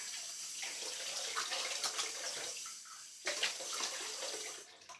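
Tap water runs steadily and close by while a man rinses his face after a wet shave, the splashing broken by a brief pause and a fresh gush of water before it carries on and tails off near the end.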